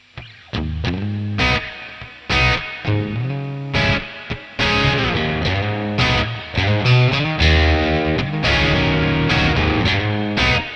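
Distorted guitar runs through a Joyo Atmosphere reverb pedal placed in the effects loop, loud driven riffs and sustained notes with a spacious reverb wash.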